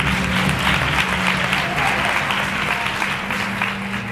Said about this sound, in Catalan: Fort aplaudiment, no?